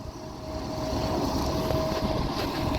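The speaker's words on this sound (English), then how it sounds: "You probably can't hear me because it's windy" Wind buffets and rumbles against the microphone, a constant loud roar with gusty fluctuations and a faint steady tone underneath.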